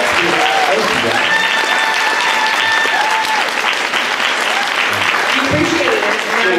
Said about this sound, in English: round of applause, I guess